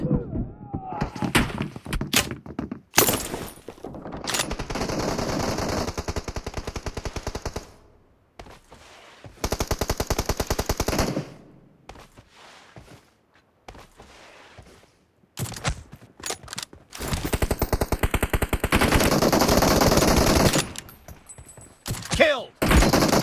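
Rapid sniper and pistol fire from an M24 and handguns in PUBG Mobile team deathmatch, loud bursts of shots with breaking and thudding impacts, broken by short quiet gaps.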